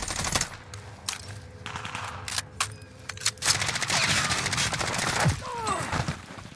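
Gunfire on Rebirth Island in Warzone: sharp single shots and rapid bursts, loud and close, with game effects and clatter in between and brief voices in the background.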